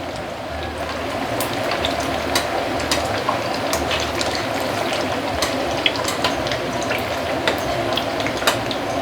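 Five spice meat rolls fry in hot oil, a steady crackling sizzle with scattered sharp pops that runs continuously for about nine seconds.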